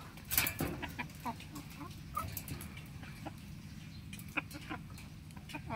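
Chickens caught in a Malaysian jungle cluck and squawk in short, scattered bursts over steady rustling, close by and fairly soft.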